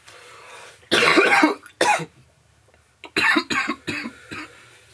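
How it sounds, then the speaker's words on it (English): Several harsh coughs in two bursts, close by, a short fit, a pause, then a longer string of rough hacking coughs. "still coughing."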